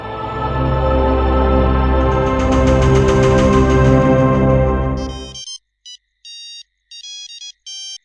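An incoming-call ringtone sounds on a phone in a Hindi television drama. A loud, bright melodic ring plays for about five seconds, then cuts to several short electronic beep bursts with silence between them.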